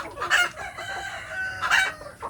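Free-range village chickens with a rooster, heard close by in two loud, brief squawking calls about a second apart over background clucking.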